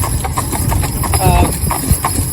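Cob horses' hooves clip-clop steadily on a town road in a close, loud, even rhythm. Low rumbling and faint voices sit underneath.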